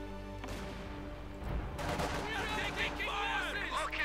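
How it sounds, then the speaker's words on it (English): Infantry gunfire in the strategy video game Company of Heroes 2, with bursts of rifle and machine-gun fire mixed with battle noise and game music, heard under a commentator talking. "Infantry shooting at us."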